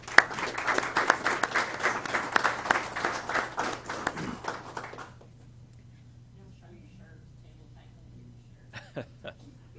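An audience at a college signing day ceremony bursts into dense, close applause for about five seconds, then it quickly dies away into room quiet with a few scattered sounds.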